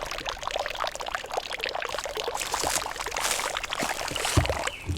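Ice-cold spring water flows at Bear Springs in the Santa Rita Mountains, a close, burbling pour with uneven splashes and trickles that swell slightly midway.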